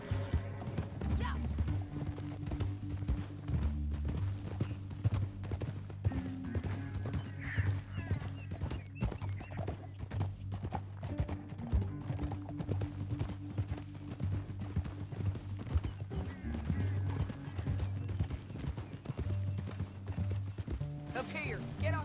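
Horse hooves clip-clop steadily in Red Dead Redemption 2, a western video game, with rhythmic hoofbeats running under a low musical score, occasional whinnies and snorts, and voices talking intermittently.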